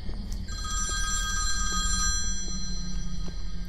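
Telephone ringing in the video game When The Darkness Comes, a sustained electronic ring with pulsing repeated bursts over a low steady hum, close and loud, no talking.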